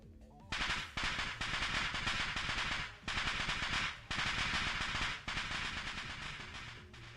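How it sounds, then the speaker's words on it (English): A dust explosion goes off behind a closed door in the Steins;Gate video game, sounding as loud, rapid crackling bursts like firecrackers or gunfire in several sustained volleys with brief gaps between them. "sounds like firecrackers sounding from the other side of the door"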